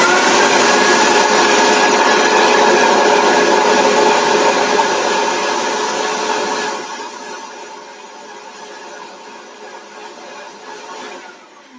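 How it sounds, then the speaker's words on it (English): A Vitamix blender whirs rose cream at high speed with a loud, steady motor roar. After several seconds it drops to a lower, quieter spin and winds down. "I am going to Vitamix it and see what happens"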